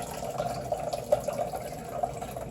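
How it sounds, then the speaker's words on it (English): Fresh coconut milk squeezed by hand from a bag trickles and drips into a container in a soft, continuous liquid stream with a few small splashes, close and moderately quiet. "I'm not squeezing hard, I'm just giving enough pressure for the liquid to come out."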